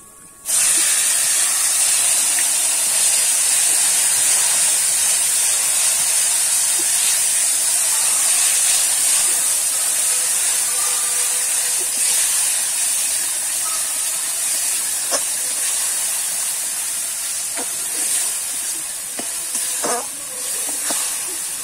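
A ground paste of ginger, garlic, onion, tomato and chilli sizzles in hot oil for a bhetki fish and taro curry, giving a loud, even hiss that runs nearly unbroken, with faint stirring knocks toward the end.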